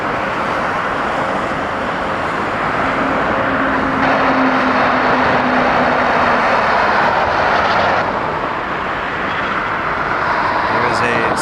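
Boeing 787 Dreamliner airliner at Toronto Pearson Airport, a continuous broadband engine rush that swells slightly midway, heard over steady background noise with occasional talk.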